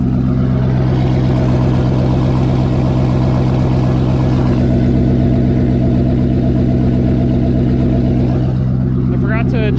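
A twin-turbo Mustang with a custom-built exhaust idles and drives off on a test drive, a loud, steady, deep engine drone close by with a brief rev at the end.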